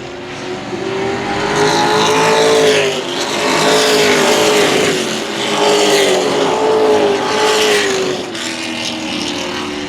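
Race trucks roaring around the Central Texas Speedway oval, loud engines droning with rising and falling pitch as the pack swells past and recedes in waves.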